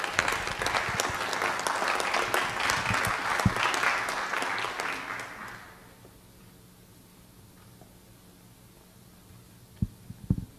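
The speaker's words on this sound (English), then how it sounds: "Let's give them a round of applause." Applause at a city council meeting swells from a roomful of people for about five seconds, then dies away to quiet room hum with a few faint knocks.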